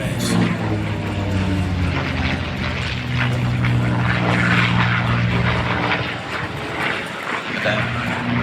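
A propeller-driven aircraft passes by at a military air show, its engine droning loud and steady with a deep humming tone that swells and shifts as it flies past, with no talking.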